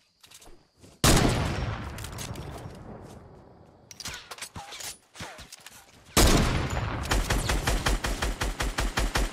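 Fortnite gunfire rings out in loud bursts: a long burst, a few scattered shots, then a rapid rhythmic volley of repeated shots near the end, close and sharp with no talk over it.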